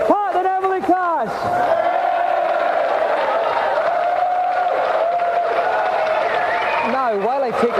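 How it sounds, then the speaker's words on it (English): A television game show studio audience claps and cheers loudly in a sustained burst, with whoops rising over the noise and musical tones sounding alongside. "And another round of applause for Pat and Emily Cash."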